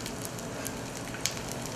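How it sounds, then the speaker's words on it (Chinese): Fire-roasted shrimp sizzle in a frying pan of hot oil, a soft, even crackling hiss with one sharp pop near the end, fairly faint and with no voices. "被油锅煎到滋滋作响，双面上色的火烧虾让人看了不禁口水直流"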